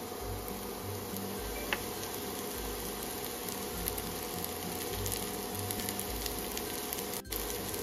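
Chopped chechki greens hitting lightly fried onion in a pan over a medium flame, giving a steady, moderately loud sizzle with a broad crackling hiss that runs through without pause.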